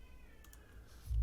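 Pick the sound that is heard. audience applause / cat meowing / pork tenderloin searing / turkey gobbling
cat meowing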